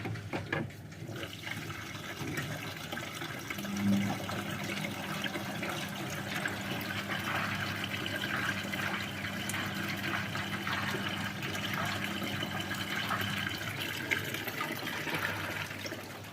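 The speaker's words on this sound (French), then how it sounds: "L'eau est claire. Allez, en essorage et c'est parti." A front-loading washing machine spins and drains during a drum-cleaning cycle, giving a steady rushing of water over a constant low motor hum for the whole stretch, with no one talking.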